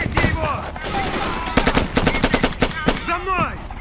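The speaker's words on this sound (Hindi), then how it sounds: "वो किस पर गोली चला रहे हैं?" Rapid machine-gun bursts in an alien action movie, loud and close, with dense volleys of shots, shouted voices and other sounds between bursts.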